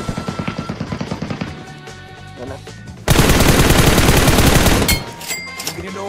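Bursts of automatic gunfire in PUBG Mobile: a rhythmic string of close shots, a short lull, then a sudden very loud sustained barrage that fades into scattered shots.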